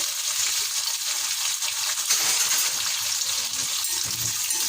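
Onion, curry leaves and garlic frying in hot oil, a steady close hiss of sizzling throughout with faint clinks beneath.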